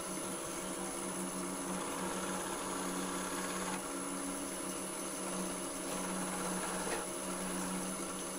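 A wood lathe spins while a gouge cuts the turning workpiece, giving a continuous steady whirring hum with a scraping texture and slight variations, close and unbroken for the whole stretch.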